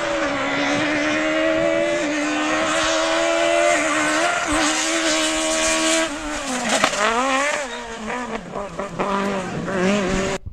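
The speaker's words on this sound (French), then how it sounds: "c'était le son des rallyes, des voitures rallyes." Rally cars race past with loud, continuous engine roar, shifting pitch as they accelerate and change gear, close and dense, with occasional tire noise and no talking.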